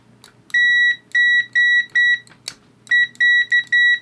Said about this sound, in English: we can test our continuity here